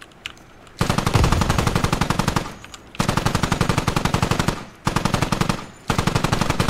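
Sustained automatic machine gun fire laying down suppression in the Squad military shooter, loud and close, coming in three long rapid bursts with short pauses between them and no talk.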